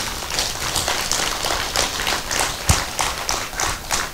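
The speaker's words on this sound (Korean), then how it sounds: "맞다고 하면 박수 좀 쳐봐" An audience at a Korean Buddhist temple dharma talk clapping in a brief, uneven burst, many hands together, fairly close and loud, with one sharper knock partway through.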